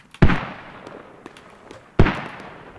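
Two sharp, loud artillery shell blasts in the video game Squad land about two seconds apart, each a heavy crack followed by a rolling, fading decay.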